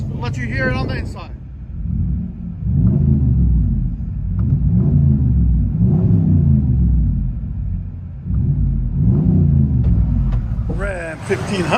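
A 2020 RAM 1500 Laramie's 5.7L HEMI V8 with Flowmaster Super 10 dual exhaust, heard from inside the cab: a loud, deep rumbling drone that swells in repeated revs, with brief talk at the start and end.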